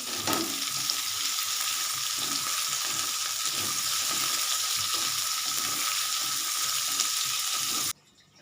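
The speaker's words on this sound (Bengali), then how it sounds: "কাঁচা লঙ্কা আমি গোটায় দিচ্ছি এটা আরেকটু ভাজা হোক" Whole green chilies frying in an oiled pan for semolina upma give a loud, steady sizzle with faint crackle throughout, cutting off abruptly near the end.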